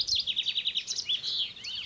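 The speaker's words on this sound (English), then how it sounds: "I hope you can hear all the bees and the birds." Bright, quick chirps and twittering birdsong repeat in a steady run, fairly close, over a faint outdoor hush.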